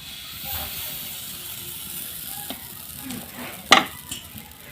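Ladled rice-flour chitoi pitha batter hits a hot greased pan, giving a soft steady sizzle and hiss with a few faint scrapes and one sharp utensil clack near the end.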